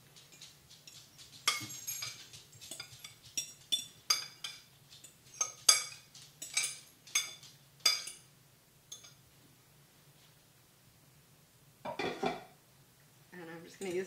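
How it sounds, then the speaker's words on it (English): Forks tossing spaghetti with a cheese and egg mixture, a run of close, quick clinks and scrapes against the dish, then a pause and a few more clinks. "I'm just going to use my forks to mix that together really well"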